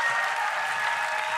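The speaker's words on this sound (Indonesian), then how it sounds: "tepuk tangan juga untuk TSD" Studio audience applauding steadily at a live televised duet show, a dense even wash of clapping throughout at moderate level.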